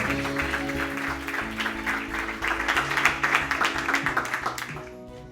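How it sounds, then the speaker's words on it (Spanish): An audience applauds speaker Noelia Sierra at a presentation in Madrid, a full burst of clapping from many hands that swells, holds for several seconds and tapers off, with music playing underneath. "Os pido un aplauso para Noelia Sierra."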